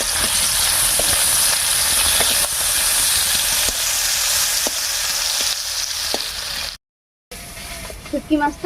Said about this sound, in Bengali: এবার একটা শুটকি মাছ এখানে লবণ হলুদ মাখিয়ে এই তেলের মধ্যে ভেজে নেব